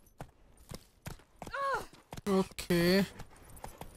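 Roach the horse's hoofbeats in The Witcher 3 on PS5, a steady clip-clop of evenly spaced muffled thuds running under a man's casual speech.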